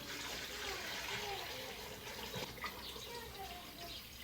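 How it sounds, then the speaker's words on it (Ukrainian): Water poured into a cooking pot holding jars of pickled cabbage in satsebeli sauce, set up for sterilizing: a continuous splashing, gushing fill that runs steadily at moderate level, with a few brief clinks near the end. "Водичку заливаю так ось не до кінця, бачите, ось так лишаю."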